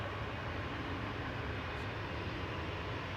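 An Air Baltic airliner coming in to land at Manchester Airport, its steady broadband jet roar heard from a distance without a break.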